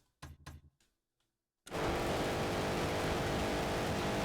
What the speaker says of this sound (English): this car is just fucking blasting